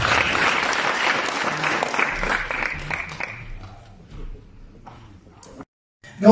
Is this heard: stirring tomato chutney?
no